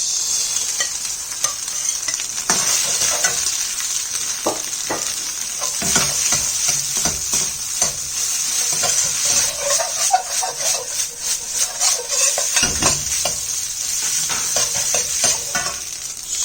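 Rice and egg stir-fried in a hot pan for fried rice, with steady loud sizzling and repeated scraping strokes of a spatula throughout, close up and without talk.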